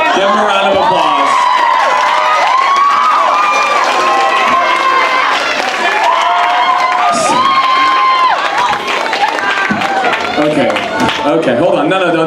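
A large crowd applauds and cheers loudly for Santa Claus, continuous clapping mixed with shouting voices and children's excited yells throughout.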